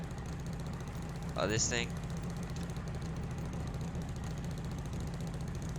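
A steady, low engine idle from Farming Simulator 19 rumbles under the whole stretch, with a brief spoken phrase over it partway through.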